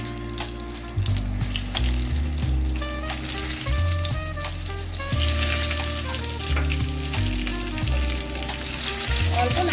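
Eggplant pieces frying in hot oil after a kalonji tempering, a strong sizzle under loud tonal music, with stirring scrapes now and then.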